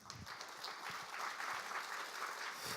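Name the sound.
audience applause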